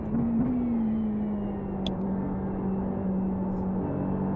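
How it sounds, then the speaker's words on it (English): Race car engine in a sim racing session at Spa, a loud sustained drone holding a steady pitch that sags slightly, with a faint click or two over it. "Is it just because of the loud car?"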